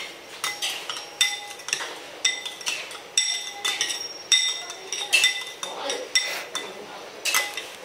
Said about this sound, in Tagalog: Mix lang ho natin.